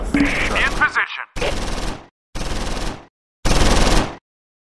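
Four rapid machine-gun bursts from a video game, loud and close, separated by short silences, with a brief voice mixed into the opening burst.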